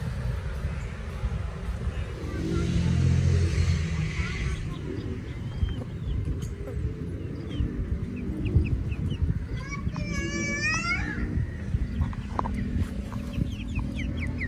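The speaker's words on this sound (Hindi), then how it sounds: "कुछ मुर्गियां रखी हुई हैं।" Chickens cluck and squawk in a busy, reverberant indoor space, with a rooster-like call midway, over constant low rumbling background noise.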